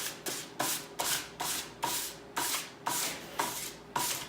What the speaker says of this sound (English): I'm just going to give all these surfaces a light sand just to make them just a little bit flatter.